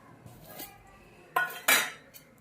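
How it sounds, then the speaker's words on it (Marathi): A heavy-bottomed kadhai set down and handled in a home kitchen, giving a couple of distinct metallic clunks and clinks close by, the loudest near the end, with no talking. "इथे मी जाडबुडाची एक कढई घेतलेली आहे"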